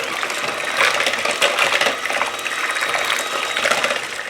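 Heavy cream pouring and dripping into a pie filling, a close, irregular liquid trickle and splatter with soft pattering throughout, no talking.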